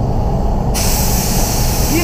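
A spray gun spraying paint on a Volvo S60 bursts into a loud, steady, close hiss that starts suddenly and continues over low background noise.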